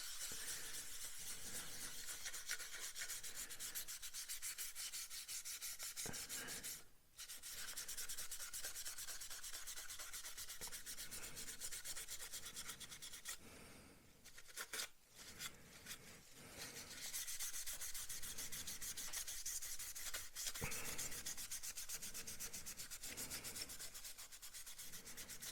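A towel rubs oil wash across the wing of a 1/48 Airfix Bristol Blenheim Mk1 scale model, giving steady, close scrubbing strokes that run almost without a break, with a few short pauses and no talk.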